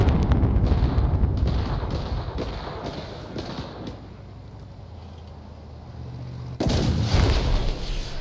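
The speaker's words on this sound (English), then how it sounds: "They're driving a tank or some shit." Tank cannon fire and rumbling in the video game Cuisine Royale, a run of loud booming blasts with heavy low thumps, easing off midway, then a sudden loud burst near the end.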